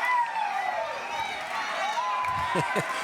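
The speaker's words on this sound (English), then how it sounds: "You can hear the crowd reaction to it" Baseball crowd at a youth Pony League World Series game murmuring and stirring in reaction to a high, deep foul ball, with scattered voices rising and a few claps near the end.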